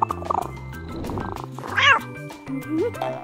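A pet kitty in a cartoon-style life-simulation video game meows and yowls in several short bright calls over busy game music, with no talking.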